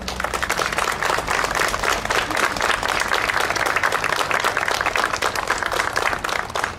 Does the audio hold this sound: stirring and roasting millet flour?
no